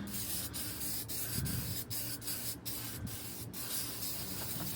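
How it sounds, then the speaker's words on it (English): Short spritzes of spray land on the roof of a 1949 Chevy during cleanup, six or seven sharp hissing puffs spaced about half a second apart over a quiet background hiss, close and fairly soft. "we're just gonna spritz what we can"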